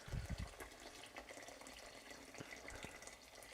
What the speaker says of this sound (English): we are going to get our good old kettle, bosh in some water